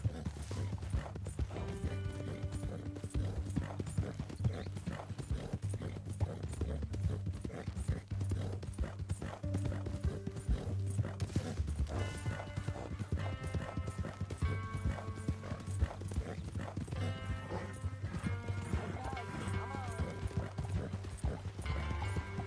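Horse hooves clip-clop in a steady rhythm through a Western video game set around West Elizabeth, with occasional neighs and whinnies, mixed with game sounds and brief character speech.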